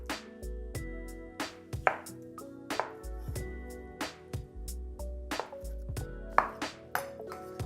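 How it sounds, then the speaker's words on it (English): A knife chops a block of firm tofu into cubes on a board, sharp rhythmic thuds repeating roughly every half second, close and clear with no talking. "we're going to take our lump of firm tofu and we're just going to chop that into cubes"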